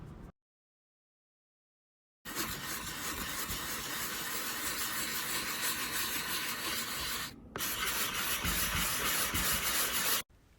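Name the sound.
sanding joint compound on a model shack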